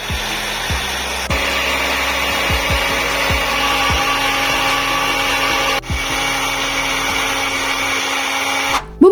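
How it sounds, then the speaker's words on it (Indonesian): A blender grinds rawon spice paste with kluwek in a steady, continuous whirring drone that runs for about nine seconds, briefly dipping near the middle before cutting off at the end; no one speaks. "kalau sudah semua masuk, kita tutup rapat, kemudian kita akan menghaluskannya kembali"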